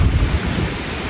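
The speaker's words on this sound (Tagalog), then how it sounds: "ngayon, bumabanat yung amihan" Strong northeast monsoon wind off the sea buffets the microphone at a seaside meal, a loud, low, rumbling roar that surges unevenly for about a second with no talking.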